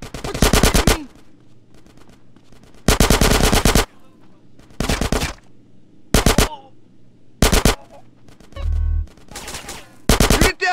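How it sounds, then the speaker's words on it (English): Loud bursts of automatic gunfire from a shootout in GTA San Andreas come in repeated rapid volleys separated by short pauses, with faint background voices between the bursts. "Get some suppressing fire in there."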